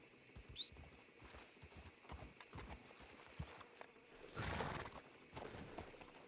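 In a Red Dead Redemption 2 roleplay game, a horse's hooves clip-clop faintly and unevenly, with a brief louder burst of noise near the end, all quiet and distant.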